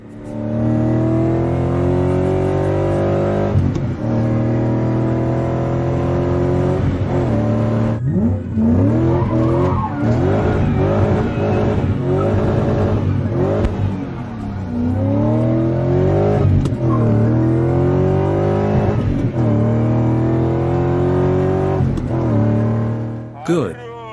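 BMW E30 Touring engine revving hard under acceleration and while spinning donuts, loud and close, with sustained high revs, rising and falling engine pitch and tire squeal across the whole stretch.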